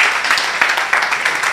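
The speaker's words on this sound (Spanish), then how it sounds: "un aplauso para el maestro Mauricio Román Quien Avilés" An audience applauds for a lecturer at a university engineering session in Campeche, producing a short burst of dense, steady clapping that stays fairly loud throughout, with no voices heard over it.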